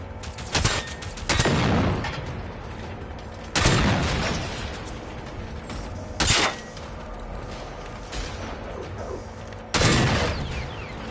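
Shotgun blasts in a video game: five loud, separate booming shots spaced a couple of seconds apart, each with a short decaying tail over a quieter background of game noise.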